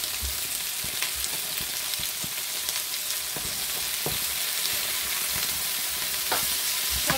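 Food being stirred in a frying pan for a quick poêlée, with a steady sizzle underneath and scattered scraping knocks of the utensil against the pan, no talking.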